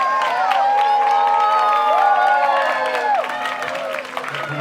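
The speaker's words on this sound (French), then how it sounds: "On l'applaudit bien fort." A crowd cheers and applauds at an outdoor carnival parade podium in Lille, with dense clapping mixed with whoops, shouts and a steady tonal hum running underneath.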